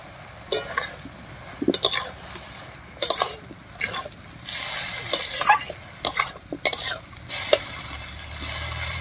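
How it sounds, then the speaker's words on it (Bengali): Kalmi greens are stirred and fried with salt over tempered spices in a pan, with repeated scraping and clinking strokes of a spatula in an uneven rhythm over a soft, continuous sizzle. The sound is close and there is no speech. "ফোড়নের উপরে শাকটা দিয়ে বেশ কিছুক্ষণ নাড়িয়ে নিলাম, এবারে লবণ দিয়ে বেশ কিছুক্ষণ ভাজা করে নেব।"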